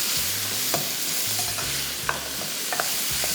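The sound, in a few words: frying raw pasta in a pan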